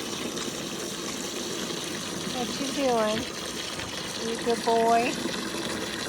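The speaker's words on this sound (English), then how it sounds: "Put some water in your pool." Water gushes steadily into a pet's outdoor pool in a muddy yard, a constant wash of noise running under a person's brief affectionate talk.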